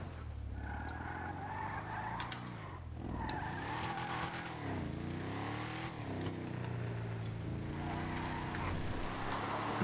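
Vapid Slamvan muscle truck in GTA V skidding steadily, with drawn-out tire squeal over a continuous engine drone that rises and falls in pitch for about ten seconds, no talk.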